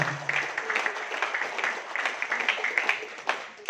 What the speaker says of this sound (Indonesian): aplaus Bapak Ibu semuanya